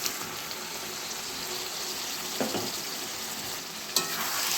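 Bombay duck (loitta) fish pieces frying and being stirred in a thick gravy, a steady close sizzle with a few soft scraping stirs and occasional clinks, no talking.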